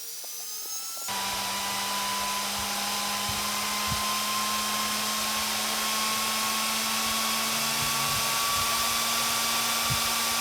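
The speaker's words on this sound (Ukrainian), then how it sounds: "Тут вентилятор працюватиме наповну. Досить шумно." A 100-amp battery charger's cooling fan kicks on abruptly at 80 amps and runs at full speed, a loud, steady whooshing drone with a faint high whine and occasional small clicks.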